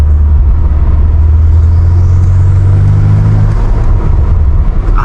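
A catless BMW M5 Competition (F90) engine revs and rumbles loudly close by, rising in pitch, with a thin high whistle sweeping upward above the roar.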